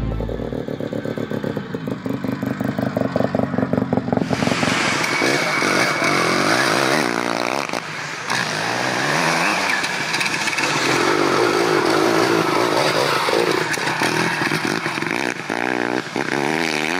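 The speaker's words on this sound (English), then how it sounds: "The 1974 Hercules street motorcycle used the Wankel engine." A 1974 Hercules dirt bike with a Wankel rotary engine runs loud and close, a buzzy, rapid pulse that kicks in about four seconds in and stays strong, with rev swells and mechanical clatter throughout.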